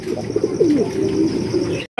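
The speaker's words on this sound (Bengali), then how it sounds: "চমৎকার এক জোড়া কিং কবুতর পাওয়া গেতেছেন" A pair of king pigeons coos in soft, rolling throaty calls, close and steady, with faint chirps around them before the sound cuts out near the end.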